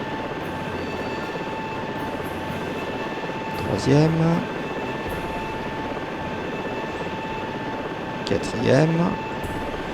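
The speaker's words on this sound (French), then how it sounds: "Un passager est déjà monté dans l'hélico." Steady helicopter idle in a video game, with passengers boarding: constant engine drone and high whine throughout, while someone speaks briefly twice over it.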